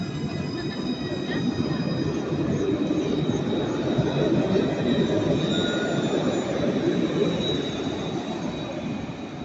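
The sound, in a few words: Nice tram departing from Jean Médecin stop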